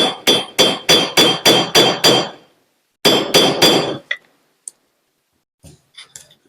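A hammer strikes an anvil with a dull, not very ringing tone: a rapid run of about eight even blows, a short pause, four more, then a few faint scattered clinks.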